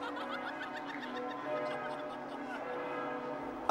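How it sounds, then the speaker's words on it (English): Cartoon church bells of Notre Dame Cathedral ring in a bright, continuous peal with tonal chimes, mixed with light laughter and chuckling. "Even the bells of Notre Dame Cathedral sound happy!"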